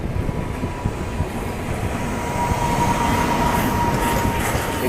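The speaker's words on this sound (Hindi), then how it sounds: "एग्जैक्टली जहाँ ये ट्रेन जा रही है वही अपनी लखनऊ वाली लाइन है।" Dehradun Express passenger train rolling into Moradabad Junction on the Bareilly–Lucknow line during heavy rain, with a steady rumble of wheels and coaches that builds slightly louder midway, continuous and close, with no talk.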